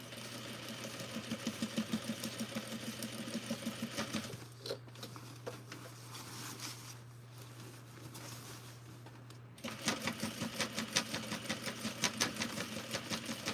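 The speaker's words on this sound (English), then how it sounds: "So right now I'm stitching through all the layers." A sewing machine stitches through thick waistband layers in quick rhythmic bursts of needle thumps, pauses for a few seconds of quiet hum, then resumes its steady stitching, fairly faint and close.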